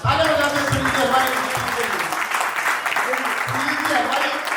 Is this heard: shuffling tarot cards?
no